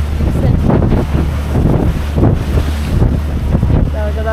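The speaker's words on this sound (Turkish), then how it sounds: "Şimdi tekrar bir seyir yapıyoruz ama dalgalar." A sailboat pushes head-on into high waves under steady, heavy wind near the island of Agathonisi, with constant roaring wind buffeting the microphone and rushing water close by.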